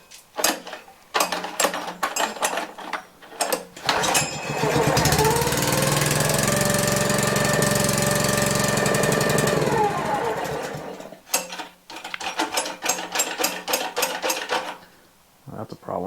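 Hard-to-start pressure washer engine pulled over on choke, catching and running steadily for several seconds before cutting out, with clicking and handling noises before and after.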